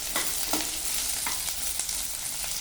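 Chopped onions and green chillies frying with chana dal in a pan for pumpkin palya, a close, steady sizzle broken by a few scraping stirs of a spatula, with no one speaking.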